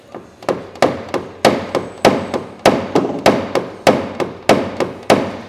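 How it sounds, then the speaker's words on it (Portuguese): A hammer taps out a dent in a car body panel during paintless dent repair, striking over and over in quick groups of crisp metallic knocks. Each blow rings briefly, and the strikes follow a steady, nearby rhythm. "O que eu estou fazendo para bater? Nada mais, nada menos do que o meu próprio martelo."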